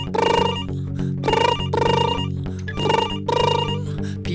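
Office telephone bells ring loudly in repeated bursts with short gaps between them, layered over a steady electronic hum, with no voices.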